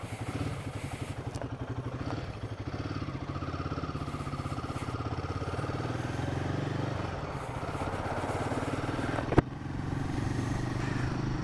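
Royal Enfield Himalayan 450 motorcycle engine running steadily at close range, a continuous even drone with one brief sharp click near the end and no talking.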